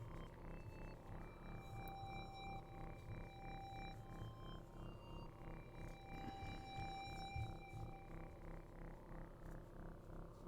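Alarm in a video game blaring during a descent into the atmosphere: steady, sustained electronic tones ring out over a continuous loud rumble, with no talking.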